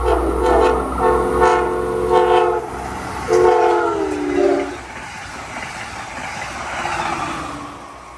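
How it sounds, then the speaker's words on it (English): An Amtrak train passes at around 80 to 100 miles per hour, sounding loud chorded horn blasts over a heavy rumble, then the horn drops in pitch as it rushes by and fades into rolling rail noise. "You will see an Amtrak train come flying past us very shortly."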